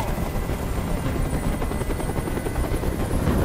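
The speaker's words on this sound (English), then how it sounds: "Tell that helicopter to get out of here!" A steady helicopter drone with rapid rotor chop in the game Detroit: Become Human, loud and continuous throughout, no voices.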